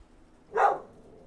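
A puppy gives a single short bark, close and fairly loud, in a quiet outdoor setting beside a grill.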